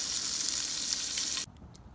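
Franks sizzle loudly in a pan over a campsite stove as dinner cooks, a close, steady frying hiss that cuts off abruptly near the end, leaving faint ambient noise.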